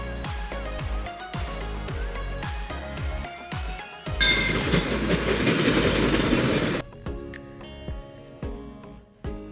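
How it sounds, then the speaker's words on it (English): Train rolling through Hanoi's narrow Train Street, wheels clacking rhythmically over rail joints, with a loud hissing, rumbling surge in the middle as the cars pass close by, then fading back to sparser clatter. "trains pass through it like a giant metal snake slithering through the city"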